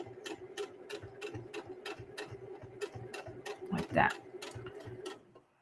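A sewing machine stitching fabric runs in a steady, rapid mechanical rhythm of even clicks with a low motor hum, close and moderately loud, and a brief louder rustle and squeak of handled fabric near the end.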